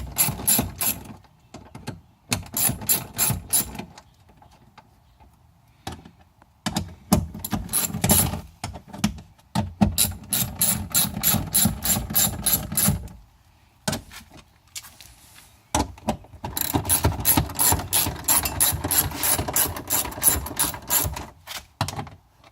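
A ratchet wrench with a 10mm socket clicks rapidly in repeated bursts as bolts come out of a Nissan Altima door during a window regulator replacement, loud and close with short pauses between runs.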